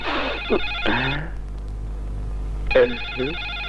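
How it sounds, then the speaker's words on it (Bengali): A telephone rings in two separate bursts of electronic tones, close and clear, with a low steady hum underneath and a quiet gap between the rings. "মন্ত্রী সাহেবের ফোন,"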